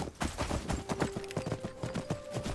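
Rapid, even rhythmic thuds of a horse's hooves while riding in a video game, close and moderately loud, with a faint steady tone running underneath.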